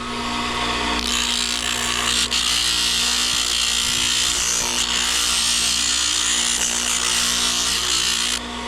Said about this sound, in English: I'm gonna start the sanding process.